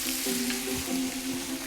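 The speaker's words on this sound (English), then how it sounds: "I'm browning off an onion in some coconut oil." Chicken and onion fry in coconut oil with a steady, close, crackling sizzle that fills the clip without any talk.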